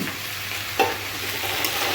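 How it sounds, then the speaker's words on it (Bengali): Cumin and chilli powder go into a hot, sizzling pan while cooking prawn with spinach, giving a steady hiss with one sharp stirring knock partway through and a fainter one near the end. "এইসব মশলা, জিরা, লঙ্কা গুঁড়ো সব আমি দিয়ে দিচ্ছি এখানটায়"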